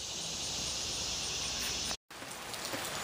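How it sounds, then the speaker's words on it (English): Steady rain pours down in a dense, even hiss, loud and close, with a brief dropout partway through before the downpour resumes unchanged. "Glory be, we're getting a nice rain"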